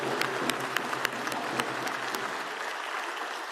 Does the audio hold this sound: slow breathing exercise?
no